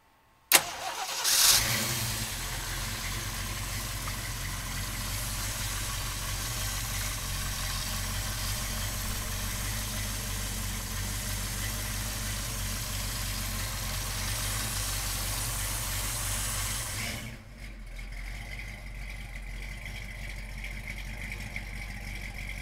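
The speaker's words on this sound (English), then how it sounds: "So come on up and we'll fire this 390 up." A 1967 Ford Mustang with a 390 V8 cranks and fires with a sharp burst, then settles into a steady, rumbling idle for a long stretch before the sound drops away.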